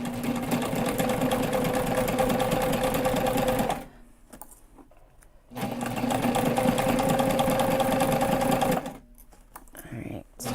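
A sewing machine stitches fabric for a backpack, running in long, steady, loud bursts of rapid mechanical chatter that stop briefly between runs, close up, with a voice speaking during the pauses.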